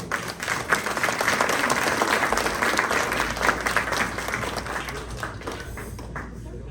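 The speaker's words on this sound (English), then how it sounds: "Let's give him a big round of applause" An audience at a Rotary awards event applauds a newly introduced Assembly Member, with steady, dense clapping that fills the room at a loud, even level for several seconds before easing slightly at the end.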